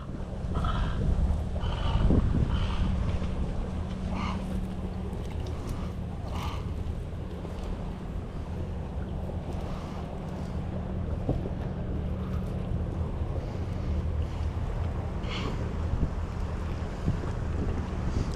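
Steady wind buffets a small fishing boat out on open water while catfishing at Venice, Louisiana in December, a constant gusty rumble against the microphone with lapping water underneath and faint low voices now and then.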